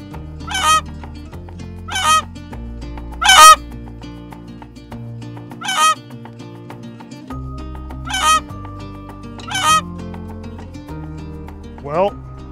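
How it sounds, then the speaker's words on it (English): Canada geese give loud, evenly spaced honks, about seven in a row, that stand out over steady background music. "and of course the ubiquitous Canada geese."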